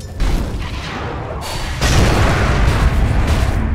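A tower in Dota 2 comes under attack: loud, heavy booms and impacts crowd together in a sustained barrage, swelling louder halfway through.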